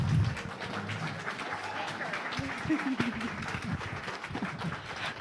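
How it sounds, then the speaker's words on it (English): Standing audience at a water expo presentation applauding a speaker, a steady, fairly faint spread of clapping with a few low voices and movement underneath. "So if everybody could please stand and give Esther a round of applause."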